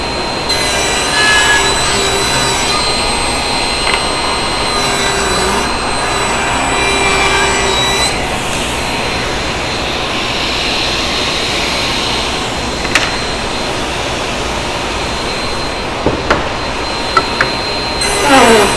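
A power saw cuts wood boards fed along a fence, producing a loud, sustained whirring roar with a steady tone that shifts slightly as each cut proceeds, ending in a few knocks and clatters of handled wood.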